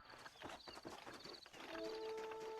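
Rhythmic clip-clop of horse hooves in Red Dead Redemption, quick and fairly close, then a steady tonal hum takes over near the end.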